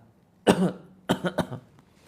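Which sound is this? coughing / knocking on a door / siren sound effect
coughing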